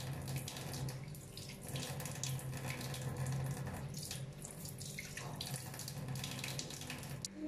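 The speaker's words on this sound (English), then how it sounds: "After 10 minutes, I wash my face." Tap water runs steadily into a sink during face washing, a constant close rushing stream with small splashing variations and no talking.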